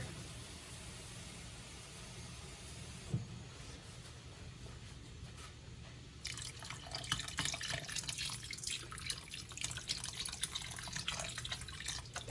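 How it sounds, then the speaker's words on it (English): Water pours into a pot of homemade zuppa toscana soup, a soft dripping trickle that swells into a brighter, steady splashing stream partway through, close by with no talking. "I would add some water, just a tad more."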